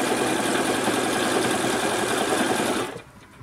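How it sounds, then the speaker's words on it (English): A sewing machine stitches quilt strips in a steady, close mechanical whir that runs continuously for about three seconds, then stops abruptly, leaving quiet room tone. "I never leave the sewing machine until I have this entire row done"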